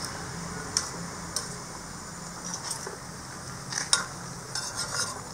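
Stirring a pot of potato and brinjal gravy: soft scraping and occasional spoon taps against the pot, with a few sharper clinks standing out over a steady low background.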